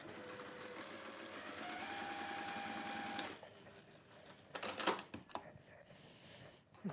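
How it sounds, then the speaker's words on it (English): Sewing machine stitching a straight line down across a seam on a fabric sausage toy, a steady close whirring hum for about three seconds that stops, followed by a few light clicks and handling noises. "just sew straight down across that seam"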